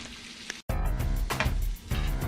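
Vegetables for borscht soup sauté in a pot with a steady close sizzle and crackle, briefly cut off by a short gap before the frying hiss resumes.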